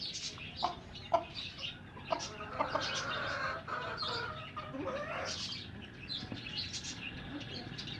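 Chickens clucking and chirping as feed is scattered for them, several birds calling close by in an irregular chatter with brief sharper notes.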